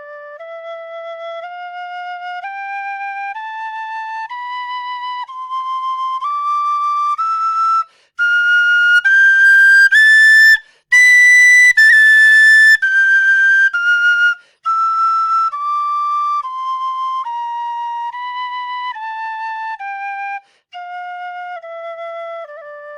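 A tin whistle in C, one of several such as an iVolga, Kerry Thunderbird or Mullan, is played as a clean scale of single held notes climbing into a shrill top octave and then descending again, with no voices.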